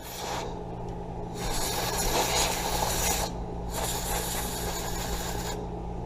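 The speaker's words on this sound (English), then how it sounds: "we'll just go ahead and give a little spray in those sort of areas" Canned air spraying into the holes of a 3D print to blow out alcohol: three loud hissing bursts of a second or two each, separated by short gaps, with no talk.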